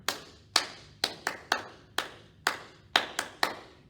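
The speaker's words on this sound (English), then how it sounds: "We're clapping 5 times" Children at a library storytime clap their hands, about ten crisp claps in an irregular, slightly bunched rhythm, close and clear with short quiet gaps and no voices on top.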